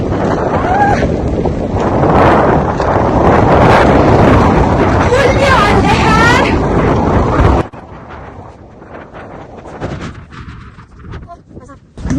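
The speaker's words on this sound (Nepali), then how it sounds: "डेन्जर हावा चलेको" Strong wind buffets the microphone outdoors with loud, continuous rumbling gusts, under excited talking, then drops to a quieter, patchy blowing after several seconds.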